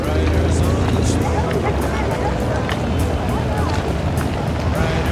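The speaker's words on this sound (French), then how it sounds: "Là, c'est des bateaux taxis en fait. Ils font traverser d'une rive à l'autre du Mékong." A motorized taxi boat crossing the Mekong River runs with a loud, steady engine drone and water wash close by, with people talking over it throughout.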